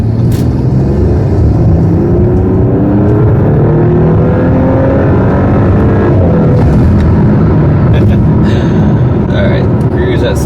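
An Audi SQ5 with a modified exhaust cruising around 75 mph in comfort mode, a loud continuous low engine and road drone with tire roar, the exhaust kept muted, while someone talks over it.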